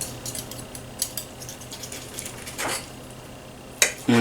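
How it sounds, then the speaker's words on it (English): Steak knife working through a cooked steak on a plate with steak and eggs, giving scattered light scrapes and clinks of metal on the plate, close and fairly quiet, with a sharper tap near the end and no talking. "I'm just going to cut into the steak."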